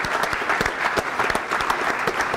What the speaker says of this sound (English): So a big round of applause again for those students